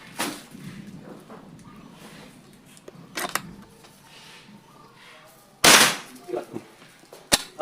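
A Monel PCP air rifle firing during a field accuracy test, a few sharp cracking reports with one loud close shot near the end and lighter clicks between them, over faint background noise.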